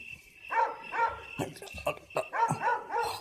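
Dog barking repeatedly in short bursts with yips and whimpers, fairly close, while people talk over it.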